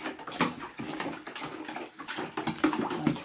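Salt being stirred into water in a bathroom to make algae culture medium, giving a run of soft sloshing, swirling water sounds with small clinks, steady and close throughout.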